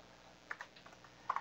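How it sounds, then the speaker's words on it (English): Keystrokes on a computer keyboard during a live scripting demonstration: a handful of light, separate clicks, quiet and close, with a short burst of quicker taps near the end. "I can type in lots of remote computers"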